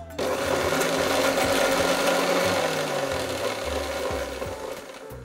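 An electric grinder whirs continuously at close range while crushing ginger chutney ingredients, with a grinding, rattling motor tone running nearly the whole clip.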